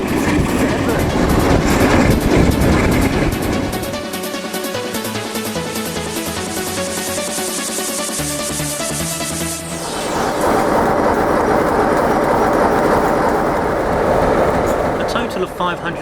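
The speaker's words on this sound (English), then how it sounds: "This isn't just any normal train. This is a heritage train." A Class 47 diesel locomotive hauls a heritage train at night, its engine drone and rolling rail noise steady and loud throughout, with a shift in tone partway through and a voice talking over it.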